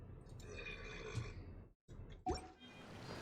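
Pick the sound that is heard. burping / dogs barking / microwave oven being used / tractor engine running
burping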